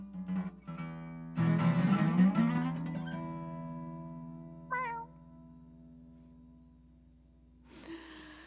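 A cat meows close by in a few drawn-out, loud calls, followed by a shorter, softer mew and a faint final cry, with quiet pauses between them and no talking.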